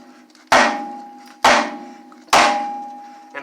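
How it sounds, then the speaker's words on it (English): Three sharp hammer whacks on a tapered steel steering joint of a Jeep Cherokee XJ ring out at steady intervals, each a loud metallic clang that decays slowly. "he simply took a couple whacks with a hammer in the right spot,"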